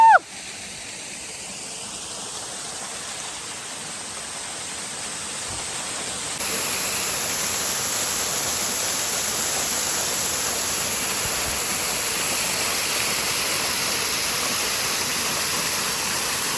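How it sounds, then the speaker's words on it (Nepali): A small waterfall rushes steadily on a village roadside, giving a broad, constant roar that grows louder and fuller partway through as it is approached. "म हजुरलाई चाहिँ यहाँ सानो झरना रहेछ, झरना देखाउँदैछु"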